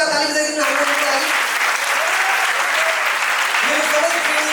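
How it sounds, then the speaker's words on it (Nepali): Loud applause from the audience at a career counselling and motivational programme, a thick, continuous clapping that fills the room while a voice speaks over it at the start and again near the end. "म ओमलाई एकचोटि सबैजना जोरदार ताली बजाइदिनु हाम्रो लागि।"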